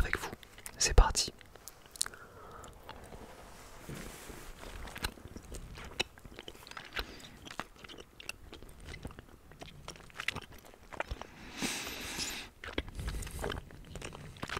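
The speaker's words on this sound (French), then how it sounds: "je vais manger celui au citron avec vous" Someone chews and crunches a lemon candy close to the microphone, with wet bites and soft crunches and whispered speech in between.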